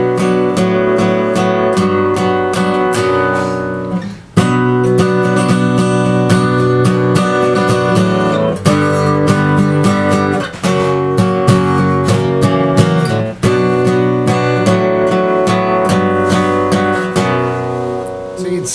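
Strummed acoustic guitar plays steady rhythmic chords in a song pattern, with a descending bass line walking down beneath them, loud and close, no voices.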